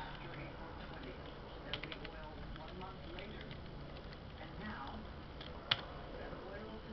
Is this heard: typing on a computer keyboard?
yes